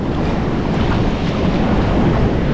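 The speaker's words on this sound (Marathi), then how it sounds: "आणि या लाटा पुन्हा एकदा पाहायचा व्हिडिओ." Ocean waves surge and wash onto Colva beach in Goa during the monsoon, a dense, continuous roar mixed with wind buffeting the microphone, loud and close with no talk.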